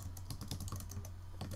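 Typing on a computer keyboard set to the Dvorak layout, a quick irregular run of close, light key clicks with no talking.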